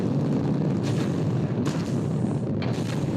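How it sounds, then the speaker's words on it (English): Rocket fuel igniting at launch: a continuous, loud, deep roar fills the whole stretch, with no pauses and a few brighter surges. "when all that rocket fuel ignites"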